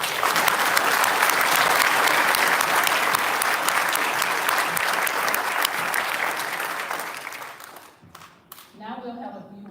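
A crowd at a Cobb County Sheriff's Office event gives sustained applause, dense and loud for most of the stretch, then fading out as a voice begins speaking near the end.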